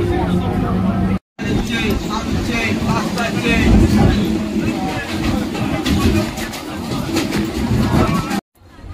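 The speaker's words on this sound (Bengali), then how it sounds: "ট্রেনটা ভালোই চলেছে, ট্রেনটা তার টাইম মতো ঢুকে পড়েছে।" A passenger train runs on a suburban line with a steady loud rumble heard from inside, while people talk and chatter nearby over the noise.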